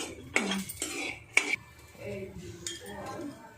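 A utensil scrapes and clinks against a pan as cashews fry in ghee, a few sharp metallic knocks and scrapes spaced out over a quiet kitchen background.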